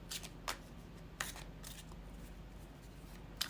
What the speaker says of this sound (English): sometimes I see the cards falling from the shuffling process as a message to the collective.